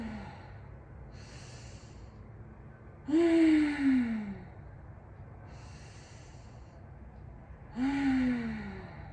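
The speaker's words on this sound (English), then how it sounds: "4 more deep breaths." Slow, deep breathing during a yoga stretch, with two long audible exhales or sighs spaced several seconds apart and softer inhales between, close and quiet with no talking.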